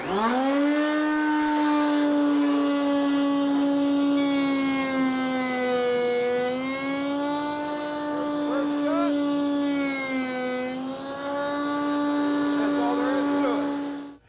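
A router in a router table trimming wood, a loud, steady high whine held for the whole stretch, its pitch dipping slightly as the cut loads and then recovering.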